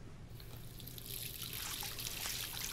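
Running water from a tap in the video game Life Is Strange, a soft continuous trickle that swells slightly over a low hum.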